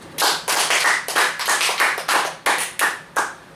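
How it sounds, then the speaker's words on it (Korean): A church congregation claps in unison during a Korean sermon, sharp rhythmic bursts of hand claps repeating steadily at close range, about ten distinct clapping pulses with no talking. "하나님께 영광의 박수 드립니다."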